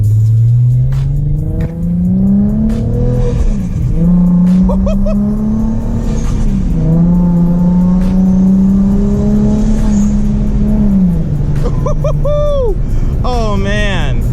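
Rear-mount turbo Infiniti G35 engine revving hard, a loud steady drone climbing and falling in pitch with whistly turbo spool bursts near the end, close and sustained throughout.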